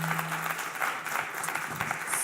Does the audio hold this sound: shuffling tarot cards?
no